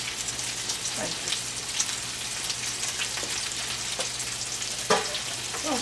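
Beef meatballs sear and brown in a hot pan with a loud, continuous crackling sizzle, punctuated by occasional sharper pops and spatters, heard up close.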